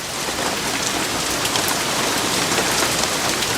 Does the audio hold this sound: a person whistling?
no